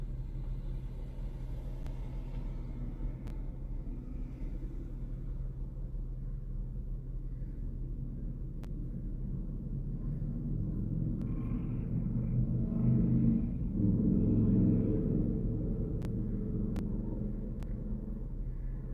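Big block Chevrolet engines rumble on a street in Cheyenne, Wyoming, a low continuous drone that swells louder toward the middle and then eases, heard at some distance with no talking.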